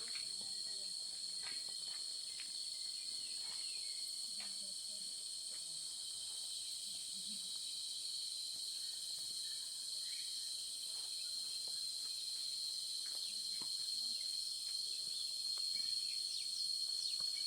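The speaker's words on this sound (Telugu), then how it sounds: "ఆ కీచురాల శబ్దం అంత స్పష్టంగా వినబడుతుంది" Shrill, unbroken cicada chirring rings through a forest in the Maredumilli hills, steady and fairly faint, with a few soft rustles below.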